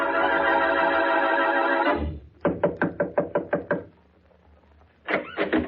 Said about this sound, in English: as he knocks on Mary Wesley's door